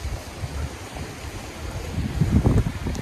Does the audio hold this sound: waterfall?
yes